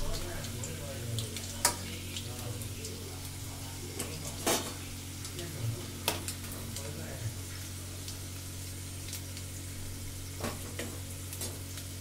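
Soya chaap fries in hot oil with a continuous sizzle, and a utensil stirring and scraping the pan makes scattered metallic clicks and taps, moderately close, with a low steady hum underneath.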